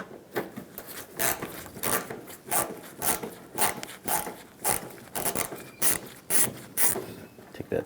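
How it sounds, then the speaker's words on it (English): A Phillips head screwdriver turning a screw out of the bumper cover on a 1997-2001 Honda CR-V, with repeated rhythmic scraping and ratcheting twists, close and moderately loud. "Use a Phillips head screwdriver."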